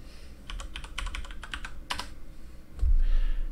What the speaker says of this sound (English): by going to the search bar and typing Puppet